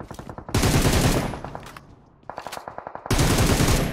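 Rapid automatic rifle bursts from an M762 in a PUBG-style battle royale firefight, loud and close, with dense sustained strings of shots broken by a brief lull before the firing resumes.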